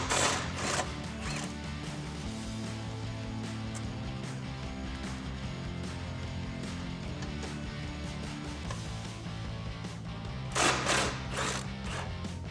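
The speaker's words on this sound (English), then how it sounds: "Grab a 16 millimeter socket and let's get these out." A 16 mm socket wrench ratchets rapidly while backing out the rear bumper bracket bolts on a Jeep Wrangler JL, a long run of close, even clicking, with a few louder metallic clacks near the end.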